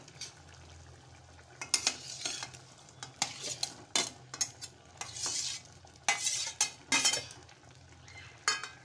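A spoon scrapes and knocks around a metal pot of Malvani mutton curry in uneven strokes, with a soft sizzle and bubbling underneath.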